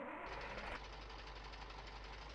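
A Kamaz 65117 truck engine in Farming Simulator 19 cranks and catches, then settles into a steady, low, rhythmic diesel idle with a knocking pulse, quiet and continuous.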